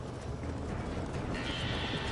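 Horses neigh and stamp inside a burning barn in the Western video game Red Dead Redemption, a dense, loud wash of whinnies, hoof clatter and roaring noise that fills the whole stretch without pause.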